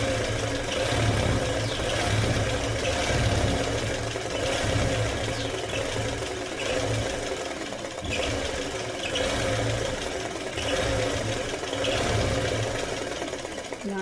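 A Pico embroidery machine stitches cloth held in a frame, giving a steady mechanical whir and rapid rhythmic needle chatter that runs continuously at a moderate level.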